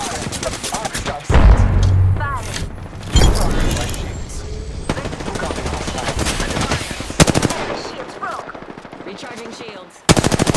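Rapid automatic weapon fire and single shots in the battle royale video game Apex Legends, loud sharp bursts repeating through the stretch, with in-game voice lines and effects mixed in.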